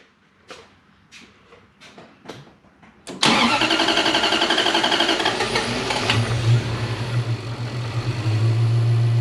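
A supercharged Toyota 1UZ engine fitted in a Prado cranks several times in short bursts, then catches and fires into a loud, rough, steady run that holds through to the end.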